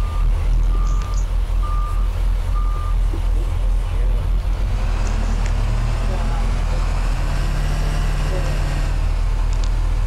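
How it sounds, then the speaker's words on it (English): A 2000 Bluebird 3800 school bus in the video game Rigs of Rods, its reversing beeper repeating steady beeps over a loud, constant engine drone, with a voice speaking briefly. "This bus has no brakes"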